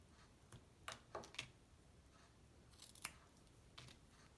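Scissors snip through hair at close range in several quiet, crisp cuts, some in quick pairs and others spaced apart, over near silence.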